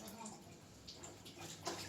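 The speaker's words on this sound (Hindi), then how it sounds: "ये 2 गिलास ऐसे पानी गिराना" Water poured from two glasses during a Satyanarayan puja, a soft continuous splashing and trickling with brief louder spills, partly mixed with faint background voices.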